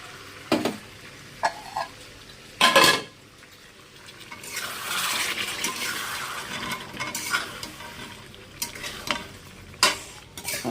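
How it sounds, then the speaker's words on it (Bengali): Mutton frying in a pan on a home stove, with a utensil scraping and clanking against the pan in sharp bursts over a steady sizzle that swells in the middle, close and moderately loud. "এইটা দিয়েই মাংসটা কষা হবে"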